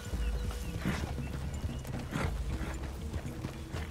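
Horses ridden through a clearing in Red Dead Redemption 2, with steady low hoof thuds, a few harness rattles and a soft whinny near the start, all close and continuous at moderate level.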